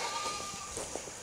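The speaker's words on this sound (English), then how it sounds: "The goats are all screaming at me." Goats on an Arkansas farm on a hot, humid August day bleat from close by, a couple of brief wavering calls over soft background noise.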